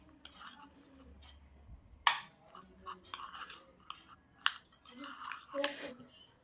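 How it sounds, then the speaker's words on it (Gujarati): Chopped vegetables for masala papad are mixed with utensils in a bowl. A run of irregular clinks and scrapes sounds close and fairly quiet, spread over a few seconds with short pauses between the strokes. "પહેલાં તો આપણે બધી જે શાકભાજીને કટ કરીને રાખેલી છે એને મિક્સ કરી લઈશું"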